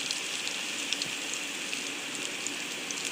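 Garlic and asafoetida sizzle steadily in hot oil in a pan on a low gas flame, a continuous close crackling hiss with small pops throughout and no voices.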